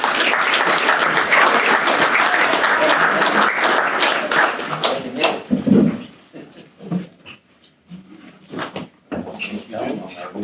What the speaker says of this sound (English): Jen, can we please give her a round of applause?